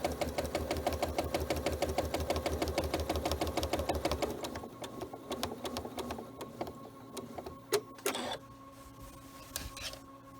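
A sewing machine runs a stitch-in-the-ditch seam with fine neutral thread, chattering in a fast, steady needle rhythm close by for about four seconds, then stopping into quieter clicks and small handling knocks.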